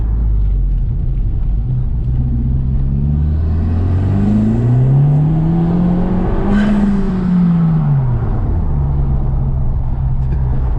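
Car engine revving hard in race mode, a loud, rough rumble that climbs and falls through several sweeping rises in pitch, close by and continuous with no talk.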